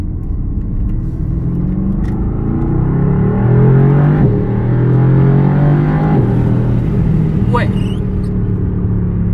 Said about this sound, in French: Ah, la sonorité elle est ouf. Ça pétarade hein.